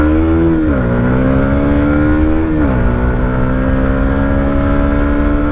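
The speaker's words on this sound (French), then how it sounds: "on va essayer de faire un gros démarrage pour une grosse montée" A Yamaha MT-125 motorcycle pulls away hard from a standstill onto an uphill slip road, its loud, close engine droning steadily and dipping in pitch at two gear changes before climbing again.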